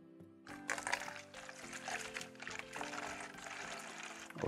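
Three hundred millilitres of water poured into a bottle, a steady rushing splash that runs for several seconds over tonal background music, with no talking.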